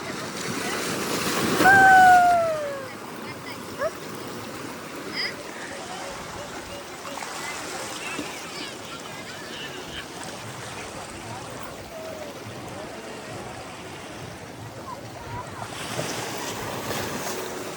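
Continuous ocean surf rushing and washing, with wind noise buffeting the microphone and a brief louder gust early on.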